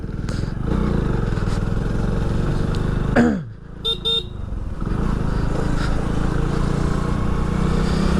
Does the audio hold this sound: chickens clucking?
no